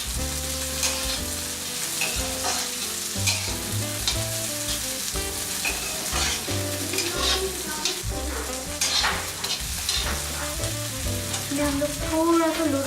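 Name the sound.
fresh peas frying with onions in a pan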